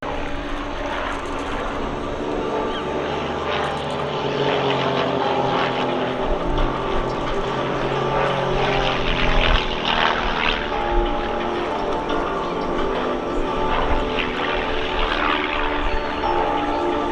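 Team Raven propeller aircraft flying a formation display at the Shuttleworth Festival of Flight, a loud, continuous engine drone that swells and wavers as the aircraft pass.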